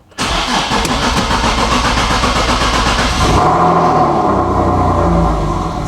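Turbocharged Nissan 370Z Nismo engine cranking and firing up into a loud, rough idle, close and continuous with no talk.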